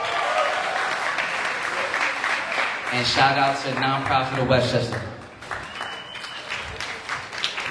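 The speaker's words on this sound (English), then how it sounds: "Oh, y'all gonna clap a lot." Audience clapping and cheering at a sneaker gala anniversary event fills the room, loud and continuous, with a voice speaking over it and a brief sung or shouted phrase in the middle.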